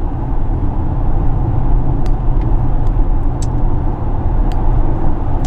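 Interior of a Polestar 2 electric car on the move, a loud steady road and tyre rumble filling the cabin, with a few faint sharp ticks and clicks scattered through.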